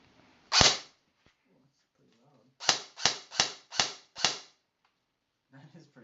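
A Lancer Tactical LT-25 Interceptor airsoft gun fires one sharp, loud crack, then after a pause five more in quick, even succession, close and alone, with faint movement afterward.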